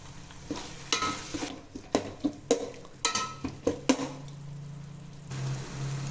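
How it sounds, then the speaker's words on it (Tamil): Irregular scraping and clinking of a spoon stirring tomatoes sautéing in a pan for crab gravy, with a soft sizzle underneath, then the frying continues quietly on its own. "தக்காளி நல்லா வதங்கட்டும்."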